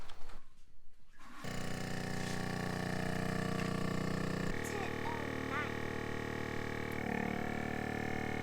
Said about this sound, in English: So we'll go over here and get a bag ready and get it vacuum sealed.